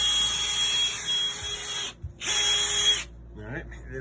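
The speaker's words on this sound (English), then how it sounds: "I'm gonna punch through the fiberglass" A power drill whines steadily as it punches through the fiberglass of a Chris Craft Commander yacht's cabin ceiling, running twice in close, loud bursts with a short pause between, then stopping as faint clatter follows.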